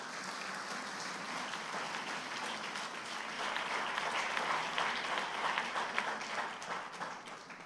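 A church congregation applauds during a celebration service, a steady wash of many hands clapping that swells slightly in the second half and carries on throughout without pause.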